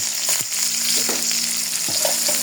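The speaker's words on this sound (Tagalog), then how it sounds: "halo-halo natin yung bawang sibuyas" Garlic and onion fry in a pan for chopsuey while being stirred, a close continuous sizzle with a few soft scraping strokes of the utensil.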